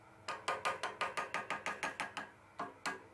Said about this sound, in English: just tap all the waterways, loosen up all the crud.